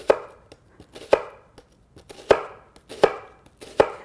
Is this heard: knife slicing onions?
yes